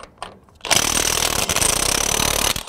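A Craftsman V20 brushless 1/2-inch drive high-torque impact wrench hammers loudly and steadily for about two seconds, working a bolt torqued to 400 foot-pounds loose after a brief quiet start.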